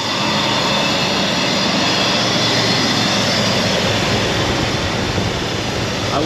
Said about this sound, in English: Let's just restart the engine and see where it's coming out of.